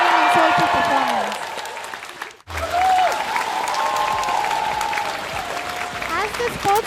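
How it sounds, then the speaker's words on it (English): Crowd applause at a school annual sports day, clapping following a soulful student performance, moderately loud and mixed with whistling or tonal sounds and voices, broken by a brief drop partway through. "Let's give them a round of applause for their outstanding and soulful performance"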